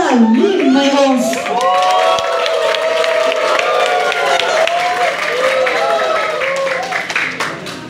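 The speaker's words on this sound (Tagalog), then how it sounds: "Palakpak na nagasamang sigawan" A crowd bursts into clapping mixed with loud shouting and cheering, many high voices whooping over the steady applause, all close and energetic throughout.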